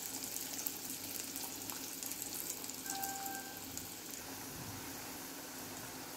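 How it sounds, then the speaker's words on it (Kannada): Potato kababs deep frying in oil on a medium flame give a steady, soft, bubbling sizzle throughout. The sound stays faint and even, with no talk over it. "ಎಣ್ಣೆಯಲ್ಲಿ ಡೀಪ್ ಫ್ರೈ ಮಾಡಬೇಕು ಈ ಪೊಟ್ಯಾಟೋಸ್ನ"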